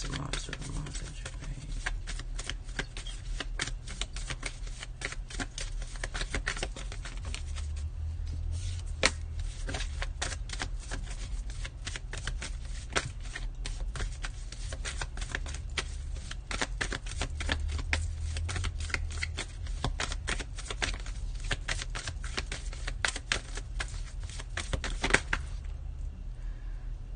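Tarot cards are shuffled in quick, dense bursts of crisp riffling and flicking that go on almost nonstop, fairly close, with a quiet low hum underneath.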